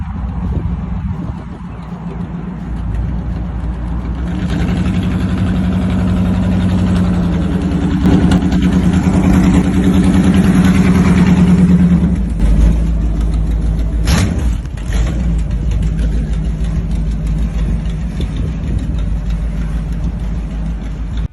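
A 1927 Chevy Pro Street hot rod with a freshly rebuilt engine, idling with a deep, loud, steady rumble that swells into a sustained rev mid-way before settling back to idle.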